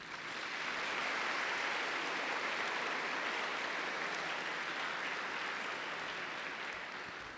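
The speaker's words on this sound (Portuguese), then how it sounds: "queremos dar uma salva de palmas para vocês" Applause from a church congregation at a Chrism and diocesan unity Mass, a broad sustained wash of many hands clapping that swells in and holds fairly steady, somewhat distant and without speech.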